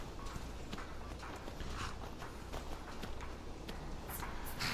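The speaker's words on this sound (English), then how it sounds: "He's getting on his horse." Rhythmic clip-clop of horse hooves at a steady trot in the video game Skyrim, close and continuous, with no one speaking.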